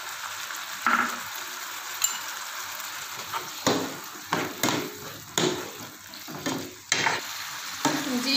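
Vegetables for a macaroni pasta platter are stirred as they fry in a pan with soy sauce and vinegar, giving a steady sizzle broken by repeated scraping strokes and light clinks, heard close with no talking.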